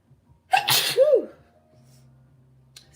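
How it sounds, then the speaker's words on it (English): One loud, sudden sneeze from an adult with sinus trouble, a sharp burst followed by a short voiced tail, then quiet room tone. "I gotta sneeze"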